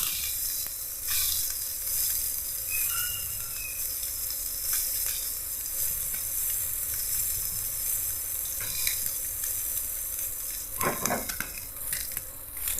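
Fish fries in a pan with only a little oil, a steady close sizzle running throughout with faint stirring and clinks, and a brief louder scrape near the end.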